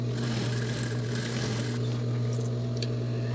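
A sewing machine runs steadily while stitching fabric for a small cosmetic bag, a continuous close mechanical hum with a fast rattling needle rhythm that never pauses.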